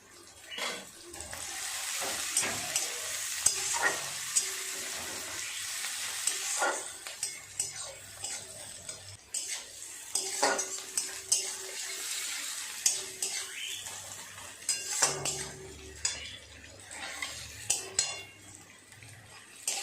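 Chopped onion stirring and frying in oil in a pan for a Bengali katla fish kalia, a steady sizzle broken by repeated scraping strokes of a spoon, close and fairly quiet, with no talk.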